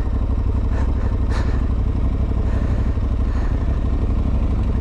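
Aprilia Tuareg 660 adventure motorcycle engine rumbling steadily up close, a dense low throb with a few brief rattles and shifts in pitch, no voices over it.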